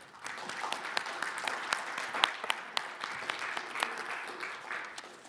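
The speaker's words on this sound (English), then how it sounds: "A round of applause, please." Audience applause after a talk at a security conference, many hands clapping in a steady, crowded patter with sharper individual claps poking through, sustained evenly across the clip.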